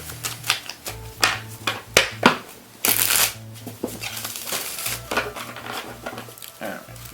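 Tarot cards being shuffled by hand for a reading, a run of quick riffling bursts and soft flicks in uneven clusters, close and fairly loud, with a brief louder cascade midway and a faint voice underneath.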